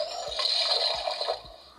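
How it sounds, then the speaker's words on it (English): A short bubbly, gurgling liquid sound like a quick drink, a Fortnite mini potion sound from a Drift toy figure, over faint background music, fairly quiet. "I think that's the sound of a mini potion being drunk."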